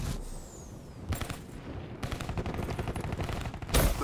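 Rapid automatic gunfire from the video game Black Ops 3, a near, steady chatter of shots that swells toward the end, with no talking over it.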